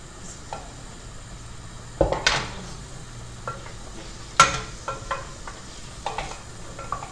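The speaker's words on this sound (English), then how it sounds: "So keep stirring it then, Woody. Hold the pan if you need to." Garlic, onions and bacon frying in a pan while being stirred, with a soft constant sizzle under irregular scraping and knocks of a utensil against the pan, two sharper clanks standing out.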